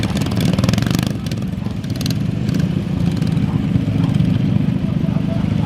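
Vintage lawn mower engines with opened-up exhausts run together at a steam and vintage rally, a loud, close, rough and continuous droning clatter with sharp crackling bursts layered on top.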